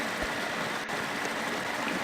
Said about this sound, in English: some ambient tracks, such as the water rushing, is something that's going to play all the time